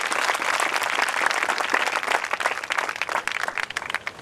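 A church congregation claps loudly and continuously in a dense burst of applause that starts at once and carries on for several seconds.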